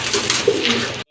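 Rajgolla pigeons at a market coo close by in a short soft burst over a busy background hum, cutting off abruptly at the end.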